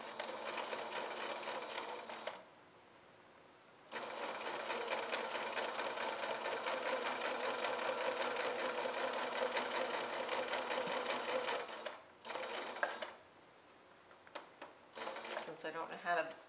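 Domestic sewing machine straight-stitching a half-inch pettiskirt seam, whirring in long close runs broken by a few short stops and restarts, with a voice occasionally audible in the gaps.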